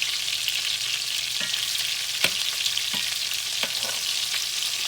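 Ground beef patties frying in a pan, a constant bright sizzle with a few clicks and taps from handling, close and moderately loud, with no talking.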